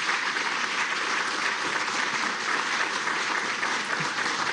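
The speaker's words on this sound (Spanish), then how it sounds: "fuerte aplauso para todos ustedes por esa gran labor periodística" Steady, loud applause from a large audience at a national journalism award ceremony, a dense continuous roar of clapping sustained evenly throughout with no talking.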